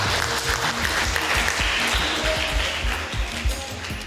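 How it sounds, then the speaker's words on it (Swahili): A studio audience on a televised dating show claps steadily, a dense, close wash of many hands with no voices, holding at an even level for about four seconds. "Tumpigie makofi Mr. Right."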